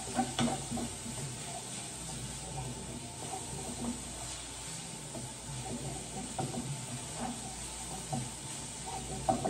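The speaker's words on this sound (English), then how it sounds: "I'm just sauteing these just so they aren't hard" Vegetables sauté in a pan for turkey burgers, a steady soft sizzle and hiss with occasional stirring scrapes, close and continuous throughout.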